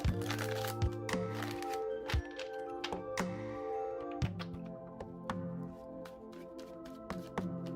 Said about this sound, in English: One more quick shuffle.